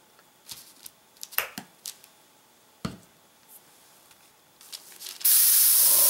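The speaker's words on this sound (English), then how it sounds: "So first I'm gonna just airbrush with the leaf green." An airbrush sprays leaf green Americolor AirMist onto fondant shrubs, first in short ticking puffs and clicks, then in a loud, steady hiss of spray at the end.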